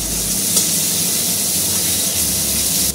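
Ginger garlic paste sizzles loudly in hot oil with spices in a pan for a Bengali topse fish curry, a constant close hiss and crackle throughout.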